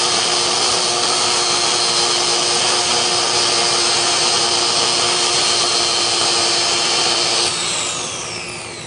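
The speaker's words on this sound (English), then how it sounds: "All right, we're up to 600 grit now." A power sander works a surface with 600 grit paper, giving a loud, steady, close whir that holds constant before winding down at the end, with no talk.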